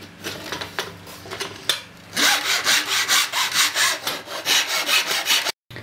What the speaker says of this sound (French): pour le limage, moi j'utilise une râpe pour métal parce que sinon ça va abîmer le bois